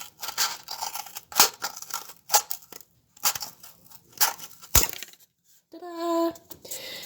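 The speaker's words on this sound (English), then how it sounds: "So you take your loo roll and you cut about 3/4 of the way up to make it a little bit smaller." Scissors snip into a cardboard toilet paper roll, with several crisp, close cuts and crunching cardboard sounds, followed near the end by a brief squeaky scrape.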